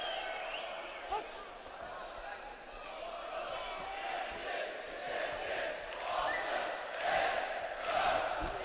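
An Azerbaijani crowd cheers at an amateur heavyweight boxing bout at the Heydar Aliyev Complex, a broad distant roar swelling toward the end with a commentator's voice running over it.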